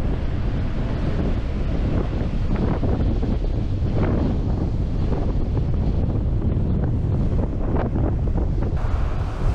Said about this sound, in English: The wind's picked up and the waves are crashing on these rocks.